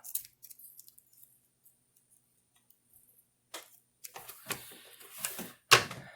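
A few crisp snips and clicks of scissors after a quiet stretch, sharp and close, irregularly spaced.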